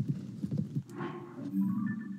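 Zelda's horse in Tears of the Kingdom gives a short run of rhythmic clip-clopping hoofbeats. A brief breathy snort from the horse follows, and a low game hum sits underneath.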